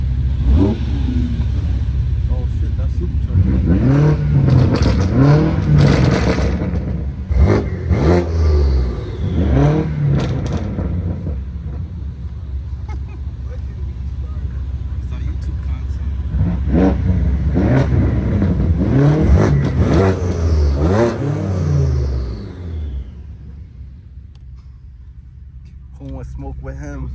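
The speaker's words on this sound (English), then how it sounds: "Oh shit, that's supercharger." A supercharged car at a car meet revs loudly and repeatedly, sharp rising whines and roars recurring through the stretch, close by, with people talking over it.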